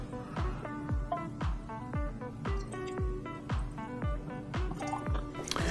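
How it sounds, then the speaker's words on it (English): Woodford Reserve Wheat whiskey glugs from the bottle into a glass in a rapid, regular series of hollow gurgles, soft and close, with liquid trickling between pulses. "So let's get some poured. So here's our whiskey for today. Let's get some in the glass."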